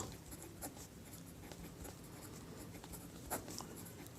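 Pen writing math on paper, a faint, steady scratching of strokes with small taps and pauses, close and quiet, with no voices.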